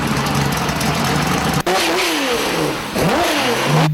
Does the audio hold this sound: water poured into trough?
no